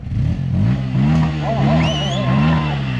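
Bajaj Pulsar motorcycle ridden nearby, its engine rising and falling in repeated rev surges, loud and close, with voices talking over it.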